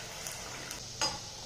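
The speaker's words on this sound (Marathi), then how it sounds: "इथे गॅसवर आपलं तेलही गरम झालेलं आहे. जी पुरी आहे ही येथे तेलात सोडत आहे." Puri sizzling as it is slipped into hot oil on a gas stove, a soft steady frying hiss with a brief louder splash of bubbling near the end, quiet and close.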